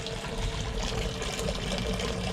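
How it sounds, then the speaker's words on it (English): Water running from a tap into a bucket, a steady close rushing pour with a slight rising fill tone, continuous and fairly loud with no talk. "See, now the bucket's full, I've turned the water off."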